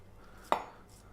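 A single sharp knife chop through fat on a beef chuck against a cutting board, one brief close thud in otherwise quiet surroundings.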